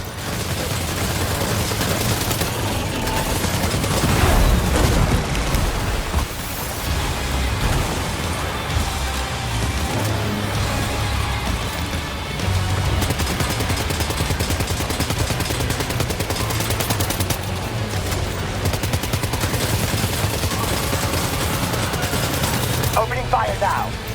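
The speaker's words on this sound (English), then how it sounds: "Opening fire now." Sustained gunfire and bursts in the video game Death Stranding 2, dense and continuous over a busy mix of game sound with a louder blast early on, with voices talking over it.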